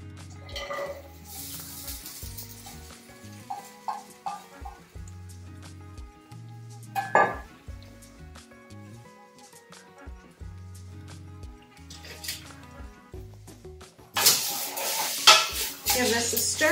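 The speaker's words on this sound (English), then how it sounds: "I'm gonna throw that into the hot oil" Diced carrots, celery, onion and a whole sweet bell pepper hit hot oil in a pot, with a soft sizzle under clattering stirring, scraping utensils and pan knocks, then a louder burst of frying toward the end.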